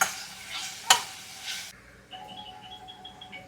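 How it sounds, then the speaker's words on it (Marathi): Finely chopped onion sautéing in a pan, with a burst of hissing sizzle and a sharp clatter early on, then quieter sizzling with a faint whistle-like tone in the background, close by. "आता यामध्ये बारीक चिरलेला कांदा ॲड करायचा आपल्याला. आता हे चांगलं परतून घ्यायचं आपल्याला."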